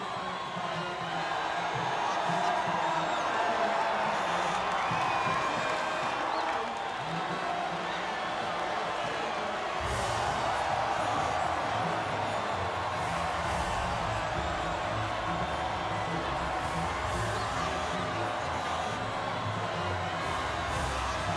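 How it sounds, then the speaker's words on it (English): A crowd roars and cheers with steady, dense noise at a podium finish for the top three after a race at reversed Silverstone in the F1 25 video game. The crowd sound holds throughout and swells in places. "And absorbing the acclaim of the crowd, George Russell on the top spot."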